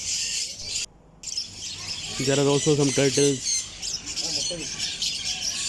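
Caged birds squawking and chirping at Souq Waqif bird market in Doha, Qatar, a loud harsh run of calls with softer chirps around it, while someone talks nearby.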